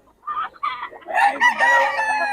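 A young gamecock, a stag rooster, crows at a bird market in Bocaue, with a couple of short calls followed by one loud, drawn-out crow close by.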